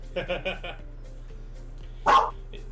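A dog barks close by, a quick burst of four or so yaps followed by a single louder bark after a short pause, with voices nearby.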